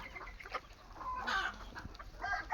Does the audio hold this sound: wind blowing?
no